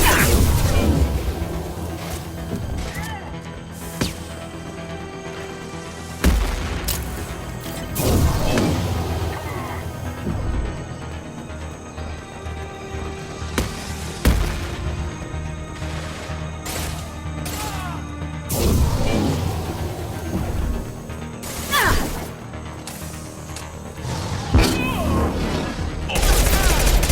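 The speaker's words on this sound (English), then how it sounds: "Firing destructive shot!" Gunfire and blasts in the video game Mass Effect Legendary Edition on Insanity difficulty: repeated loud, sharp shots and impacts spread across a busy firefight, over steady background battle noise.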